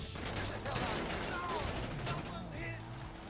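Rapid gunfire in GTA Online, a dense stream of shots and impacts heard as a busy game-audio mix with voices and other sounds layered in.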